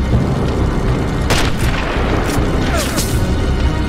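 Gunfire in the video game Sniper Elite, a few loud sharp shots and booms bursting out of a steady background rumble, spaced irregularly.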